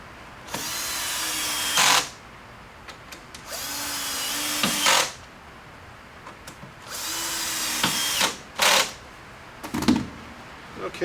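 Power drill driving the last screws into a large 40-inch table during assembly, three long whirring bursts of a few seconds each with short clicks and knocks between them, close and loud.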